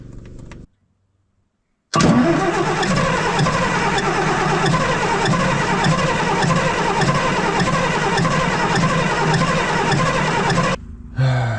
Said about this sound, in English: I'm gonna stop torturing the starter. Obviously it's not getting enough fuel.